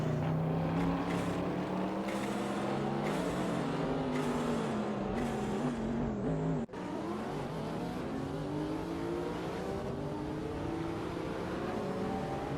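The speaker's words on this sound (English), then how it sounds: "We are currently watching a race in a racing simulator featuring R-driven cars." AI-driven hypercars race at Spa in a racing simulator game, with engines whining and rising in pitch one after another, loud and continuous, with passing cars and gear shifts.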